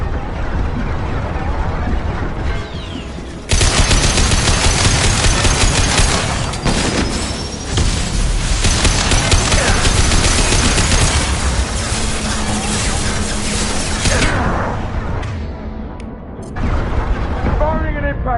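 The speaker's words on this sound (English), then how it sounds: "Firing an impact shot!" Impact shot gunfire in Mass Effect 2, loud sustained combat noise with heavy booms and bursts filling the scene, a sharper blast onset a few seconds in, continuing amid dense battle sounds and voices.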